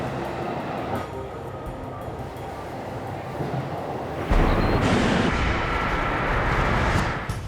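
A Shinkansen bullet train moves through a station with a broad, steady roar that swells sharply about halfway through and stays loud. No one speaks.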